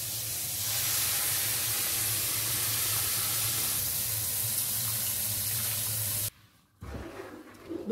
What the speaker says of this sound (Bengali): তো আমি এই কাপের মাপেই 2 কাপ গরম জল ইউজ করব।